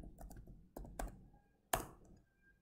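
Several crisp keystrokes on a computer keyboard while entering data into an Excel spreadsheet, a few quick clustered clicks and then one sharper, louder tap, close and quiet with no talking.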